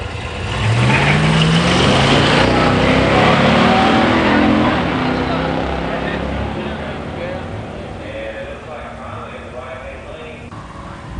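A 1970 Cyclone Spoiler 429 automatic and a 1970 GSX Stage 1 455 automatic drag racing down a strip, a loud engine roar that rises then slowly fades into the distance with crowd noise beneath.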